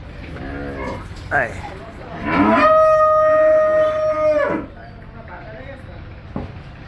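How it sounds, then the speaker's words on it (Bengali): A cow lets out a long, loud moo nearby at a household cattle sale in Dhaka, with voices and farmyard sounds around it. "এখানে গরু আছে"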